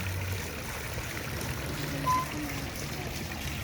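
Water circulates at a pumping station with no power supply, a steady, rushing flow that holds at a constant level throughout the clip.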